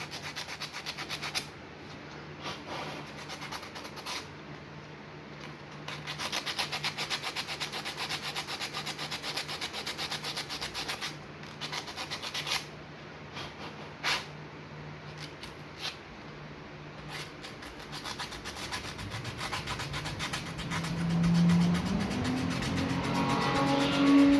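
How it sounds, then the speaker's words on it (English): Sanding the engine block mounting surface for a clean ground connection: steady rasping strokes, close and continuous for over twenty seconds, with a low hum rising near the end. "you want to sand those down so where it's a good clean connection"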